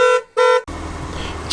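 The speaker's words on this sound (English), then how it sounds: "That'll be the alarm." A classic car's alarm blares two loud electronic honks close by, then cuts off and gives way to a steady low rumbling background.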